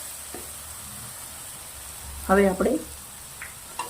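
Tomatoes salted in a hot pan roast with a steady, soft sizzle for a Punjabi dhaba-style cauliflower paneer sabzi. The frying hiss runs throughout, and someone speaks briefly near the middle.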